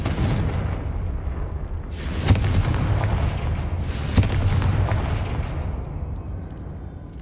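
In the video game Hogwarts Legacy, the Confringo explosion spell goes off twice in a sustained rumbling battle soundscape, each one a sharp booming blast about two seconds apart over continuous low roar.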